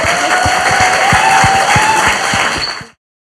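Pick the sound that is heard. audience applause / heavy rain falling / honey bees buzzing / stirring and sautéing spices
audience applause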